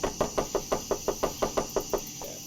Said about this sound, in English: Knock again, just keep knocking.